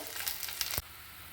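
Tamarind water hits a pan of sizzling fried chillies while making kuzhambu, giving a few bright crackling sizzles that stop abruptly into a quieter steady hiss.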